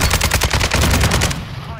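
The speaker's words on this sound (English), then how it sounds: "Shooting at you." Rapid automatic gunfire from a shooter video game, a loud close burst of evenly spaced shots that runs for over a second before cutting off, with a voice briefly audible beneath.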